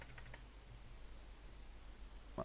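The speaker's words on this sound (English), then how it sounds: "let me type the header selector" Quiet typing on a computer keyboard, a few faint quick key clicks at the start and a single sharper tap near the end over low background hiss.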